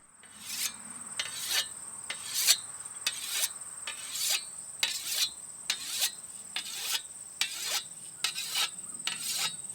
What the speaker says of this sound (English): After wetting the stone, it may still be necessary to rub some of the fines off the surface.